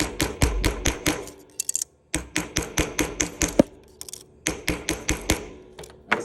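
A hammer taps a tube rivet to squish it down, sharp close metallic strikes in quick rhythmic runs separated by short pauses.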